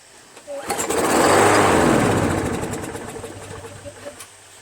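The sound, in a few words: small gasoline engine sputtering, starved of fuel by clogged carburetor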